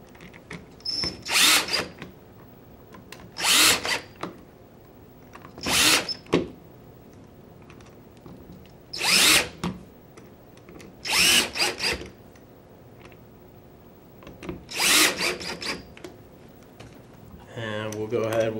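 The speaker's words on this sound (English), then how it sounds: "from there we will tighten down our receiver screws" A power driver tightens the receiver screws on a Gryphon paintball marker in several short whirring bursts with pauses between them, close and fairly loud, ending with a brief rattle.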